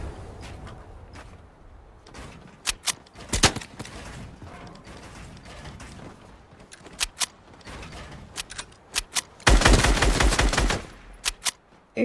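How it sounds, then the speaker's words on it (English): Gunfire in Fortnite: scattered sharp, loud shots are spread across the clip, ending in a dense rapid burst near the end over a quieter game background. "he's shooting at me again"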